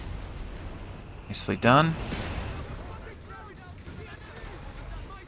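Artillery barrage in the video game Company of Heroes 3 during a 1v1 match, heard as a sudden pair of loud booming blasts before low battle rumble continues under a commentator's voice.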